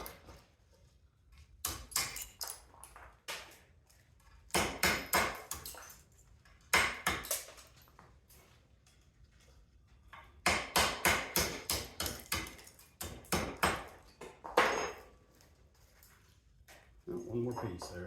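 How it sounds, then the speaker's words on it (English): Hammer pounds on scrap metal to knock copper loose, coming in several bursts of rapid sharp metallic blows separated by pauses, with someone talking in between. "You pound it with a hammer."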